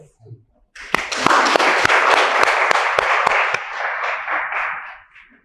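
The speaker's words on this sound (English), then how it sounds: "I would like us to give them a round of applause, the developers." An audience applauds the developers at a presentation: a dense, sustained wash of many hands clapping rises suddenly, holds steady for several seconds with a few sharper individual claps standing out, then thins and fades.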